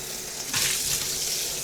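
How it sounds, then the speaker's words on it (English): Water runs into a kitchen sink while a pan is washed with soapy water. A steady close hiss swells slightly partway through, with no voices. "can use a bit of soapy water to clean the rest"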